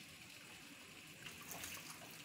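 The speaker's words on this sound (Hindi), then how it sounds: "और ये पानी गिर गया" Water from boiled macaroni being drained out, a continuous close gush of falling liquid that swells slightly toward the end.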